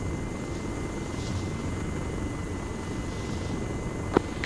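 CH-47 helicopter in the Arma 3 video game, a steady low rotor and engine drone holding evenly throughout, with one brief sharp click near the end.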